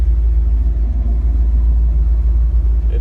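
A 1970 Plymouth Cuda with a 440 six-pack V-code engine idles at about 800 rpm, a deep, loud, steady low rumble with a slightly lumpy pulse, heard close and alone without talk.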